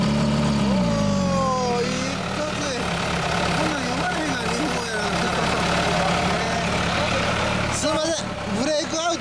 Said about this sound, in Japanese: F4R エンジン音聞かせてもらえますか？